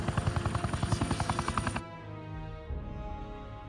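A helicopter's rotor thumps in rapid, loud, even beats inside the cabin in Hitman 3 on Ambrose Island, then cuts to a lower steady engine drone with a softer rumble.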